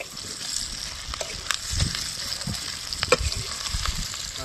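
Pork pieces fry with taro and tomato in a pan, giving a steady sizzling crackle with scattered pops and occasional stirring scrapes, close and continuous with no talking.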